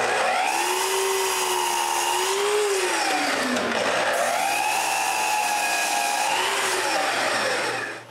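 A power tool cuts wood pieces to size in a workshop, giving a loud, continuous whine that dips in pitch under load and rises again, heard close up with no talk.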